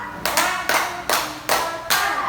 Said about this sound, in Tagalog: maaari niyo bang bigyan ng 5 palakpak ang unang pangkat?